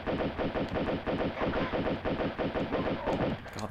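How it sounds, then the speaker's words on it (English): Sustained rapid automatic gunfire in bursts, loud and close, rattling almost continuously with brief gaps, like a submachine gun in Tomb Raider II. "It was almost like a submachine gun."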